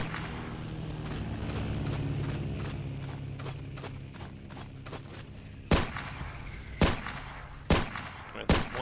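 Four loud engineer-rifle shots crack out in Battlefield 1942 on Iwo Jima, spaced about a second apart, after a stretch of rumbling game noise and engine drone.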